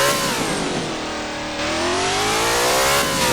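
A Pagani Huayra BC supercar in the Roblox game Driving Empire revs loud and close, its engine pitch sweeping down then climbing again in a continuous smooth wail with no talking.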